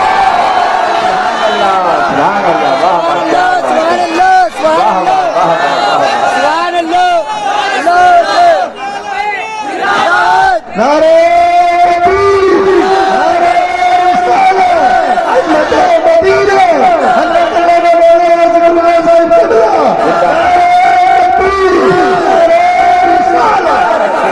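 A large crowd at an Islamic religious sermon gathering shouts a religious slogan together, many loud voices rising and falling in dense, overlapping bursts that fill the whole stretch.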